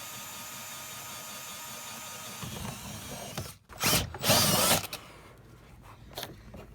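Power drill grinding slowly through a wall in low gear during a TV mounting job, a steady mechanical whine that breaks into a few loud, rough bursts of boring before settling back.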